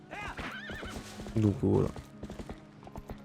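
Epona the horse in the Zelda Twilight Princess HD video game gives loud whinnies, with quick hoof clip-clops beneath them. Someone talks briefly over the sounds.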